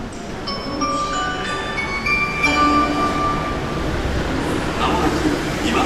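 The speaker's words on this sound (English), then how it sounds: "A train bound for Naha Airport is arriving on." A two-car monorail train bound for Naha Airport in Okinawa pulls into a station, a steady rolling rumble with tonal chimes and an announcement-like voice over crowd murmur and nearby talk.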